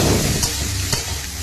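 Yardlong beans fry in a hot pan of oil with salt and turmeric, giving a close, steady sizzle with a couple of soft stirring scrapes.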